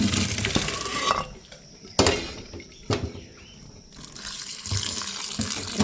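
Boiled pasta and noodles being drained in a strainer, water gushing and splashing in bursts, with a few sharp clanks of metal cookware between the pours; close and fairly quiet, no talking.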